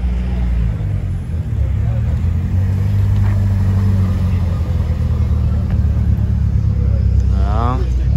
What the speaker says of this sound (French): il y a plein de voitures qui arrivent